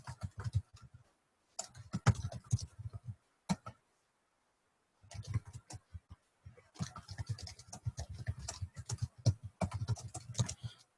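Keystrokes on a computer keyboard while entering SQL queries, rapid bursts of clicky taps in several runs separated by short pauses, close and fairly quiet with no talking.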